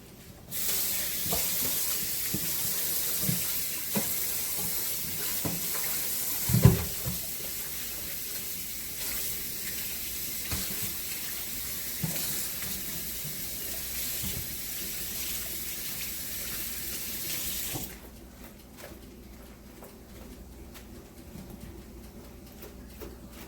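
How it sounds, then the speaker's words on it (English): Cabbage being washed in salt water at a kitchen sink, a steady running tap hiss with occasional splashes and clunks for about eighteen seconds, then the water stops, leaving quiet room tone. "I'm gonna wash my cabbage. Wash it in a little salt water."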